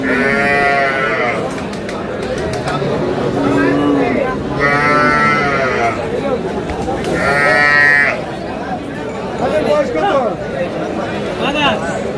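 A Sahiwal cow with her calf at a cattle market, giving repeated loud moos and bleating calls, three prominent lowing calls in sequence amid market chatter and voices nearby.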